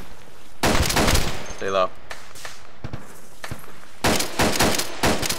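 Automatic gunfire crackles in Arma 2 during an infantry firefight inside a building, with sharp bursts and single shots, a rapid rattling volley, and scattered distant reports, while a voice speaks briefly between shots.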